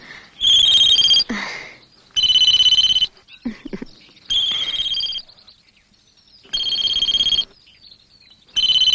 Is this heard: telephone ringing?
yes